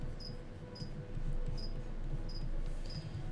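Crickets chirp in short regular high-pitched bursts about every 0.7 seconds, steady and fairly close over a low constant background hum.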